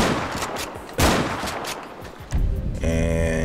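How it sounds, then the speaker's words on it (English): A pump shotgun MK2 fires in GTA 5, two loud, sharp blasts about a second apart, each followed by a ringing tail, then a mechanical tonal sound at the end. "Pump shotgun MK2."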